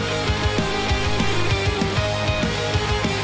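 A punk rock song plays at full density, with dense distorted guitars, driving drums and a sustained, wall-like mix, steady and loud throughout.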